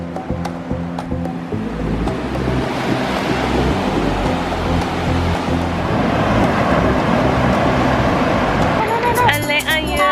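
Ocean waves roll onto a beach in a steady, loud wash mixed with wind buffeting the microphone, while people nearby talk and wait for a rocket launch.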